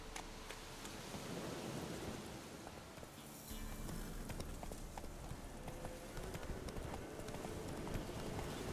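Horse hooves clip-clop at a steady trot in the video game Witcher 3, a rhythmic patter of hoofbeats layered over a continuous wash of rain-like ambient noise and low rumbling.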